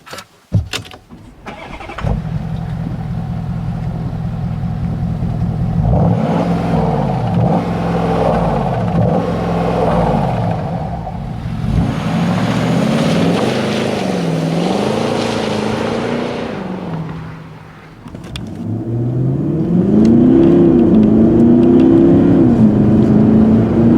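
A Porsche Cayenne S Diesel with its V8 engine starts, then revs and accelerates hard through several gear changes, loud and close with a deep rumbling note and no talk.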